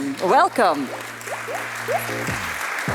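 Audience at a festival panel session gives a round of applause for the panelists, starting loud with quick clapping and thinning out over a few seconds, while a host speaks briefly over it.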